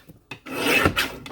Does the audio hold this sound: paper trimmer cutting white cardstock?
yes